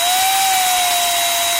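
A power drill bores into a 1/64-scale NASCAR diecast car with a steady, loud, high-pitched whine. The tone holds continuously and dips slightly in pitch as the bit bites into the metal.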